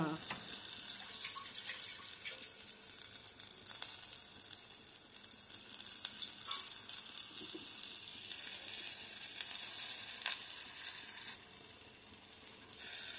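A small piece of chicken pakodi sizzles in hot oil with a steady, crackling hiss and scattered pops, close up, and a voice speaks briefly over the frying.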